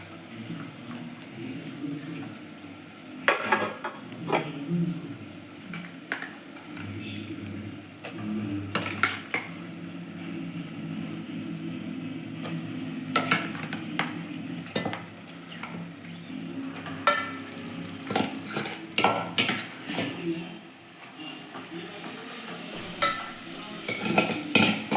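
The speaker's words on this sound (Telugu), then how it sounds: "చికెన్ అనేది దీంట్లో మ్యారినేట్ చేసుకున్నాం కదా ఇందాక, అదైతే దీంట్లో అయితే వేసుకున్నాం." Marinated chicken sizzling in a pan while being stirred, with soft steady frying under repeated sharp scrapes and clinks of a spoon against the pan.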